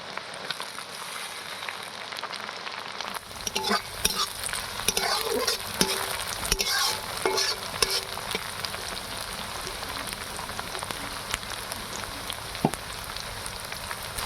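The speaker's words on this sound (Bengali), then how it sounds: "এখানে পেঁয়াজটা বেশ ভালোই ভাজা ভাজা হয়ে গেছে।" Onion and tomato frying in a pan for a Bhola fish masala curry, a steady close sizzle with scattered stirring clicks and scrapes, beginning after a short quiet start and running throughout.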